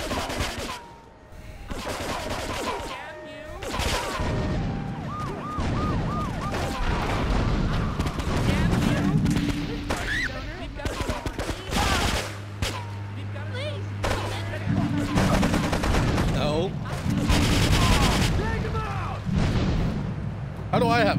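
Bursts of gunfire in GTA 3, sharp repeated shots and volleys mixed with street and game sounds, mid-distance and fairly loud, with voices talking throughout.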